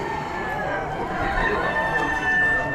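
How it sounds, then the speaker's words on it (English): Hens and other chickens at an Amish animal auction, including Polish, Wyandottes and black Americanas, with a steady crowing and clucking bed over general barn din, fairly close and continuous, and speech in the background. "Good looking group of hens."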